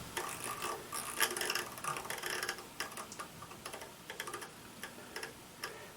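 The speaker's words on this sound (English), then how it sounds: "This is the nice advantage of the rotary dial" The rotary dial on a Boss GT-8 guitar effects processor clicks in quick irregular runs of small ticks, close and fairly faint, speeding up and slowing as it turns.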